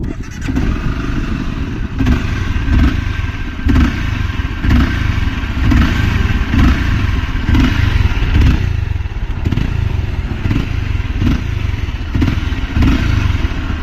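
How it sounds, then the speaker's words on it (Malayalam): A Honda CBR 250R BS3 motorcycle in tricolor livery runs close by, its exhaust giving a loud, steady engine note with regular rhythmic pulses and no talking throughout. "അപ്പം ഞാൻ ഇതിൻ്റെ എക്സോ സൗണ്ട് ഒന്ന് കേൾപ്പിച്ചു തരാം നിങ്ങളെ."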